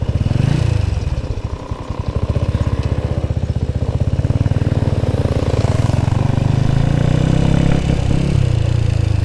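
Honda Wave 100 motorcycle engine idling and revving unevenly from a dirty carburetor, a loud close-up putter with a stuttering, irregular beat throughout.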